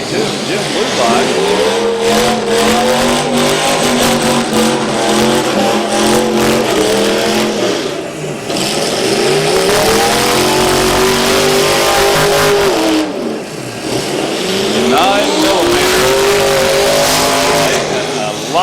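Demolition derby cars at a county fair revving their engines loudly in repeated rising surges, with an announcer's voice over a public address system and crowd noise around.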